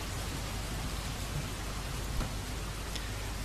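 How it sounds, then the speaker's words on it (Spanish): Steady rain in Mount & Blade: Warband beats against a window, a constant dense hiss with no pauses or voices, moderately loud throughout. "La lluvia es ridícula y se choca contra la ventana."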